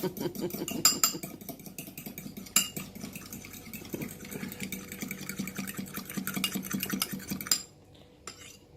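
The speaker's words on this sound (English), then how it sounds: "I'm also just going to beat my 2 egg yolks" Two egg yolks are beaten by hand with a utensil in a bowl for donut dough, a fast steady tapping and scraping rhythm close up, ending abruptly.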